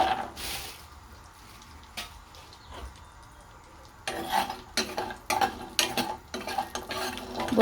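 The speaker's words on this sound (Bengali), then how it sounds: "কয়েকটা কুমড়ো বড়ি ভেজে নেব।" Pumpkin lentil dumplings (kumro bori) fry in oil in a pan. A soft sizzle runs underneath while a spatula clinks and scrapes in short, irregular bursts that grow busier in the second half.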